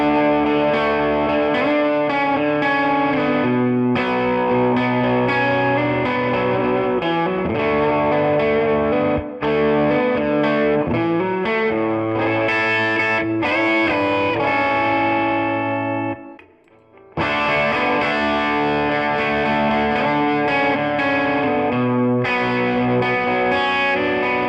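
A distorted electric guitar on its bridge pickup plays continuous chords and notes with a bright, biting tone, briefly dropping out near the end before resuming.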